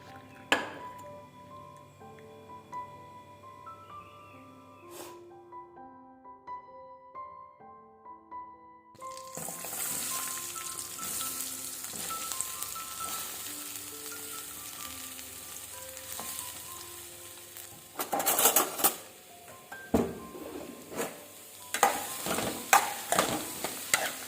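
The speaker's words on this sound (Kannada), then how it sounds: "ಆ ಕಡೆ ಆಲೂಗಡ್ಡೆ ಮತ್ತು ಈರುಳ್ಳಿನ ಹುರಿಯೋದಕ್ಕೆ ಹಾಕಿದ್ದೀನಿ" Potatoes and onions frying in a pan, a quiet start with faint tonal background giving way to steady sizzling and crackling, with occasional louder stirring scrapes and clatters near the end.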